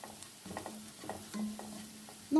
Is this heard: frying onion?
yes